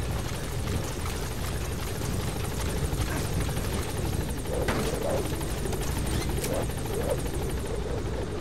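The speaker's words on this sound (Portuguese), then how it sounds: "aquele helicóptero ali." Helicopter in the Metal Gear Solid V video game, a steady whirring rotor drone that runs loud and continuous throughout, with no talking over it.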